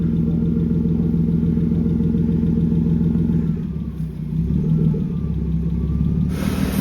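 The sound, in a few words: BMW E36 engine running with slight lifter tick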